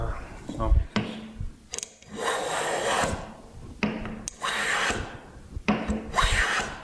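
A hand plane shaves wood braced against a bench hook used as a planing stop, with three long rasping strokes separated by short pauses and knocks from repositioning the plane.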